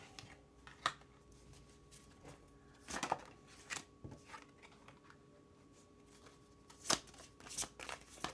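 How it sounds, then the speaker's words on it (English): Tarot cards are shuffled and drawn from a deck, giving brief riffling and slapping bursts spaced irregularly between quieter stretches, close and fairly soft. "So I'm going to draw 5 cards here to get an idea of what's going on in your connection."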